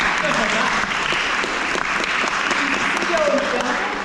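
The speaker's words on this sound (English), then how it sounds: "Round of applause for Tracy" Audience applause fills a panel discussion at a startup event, a dense, steady wash of clapping lasting the whole stretch, with a few voices faintly audible underneath.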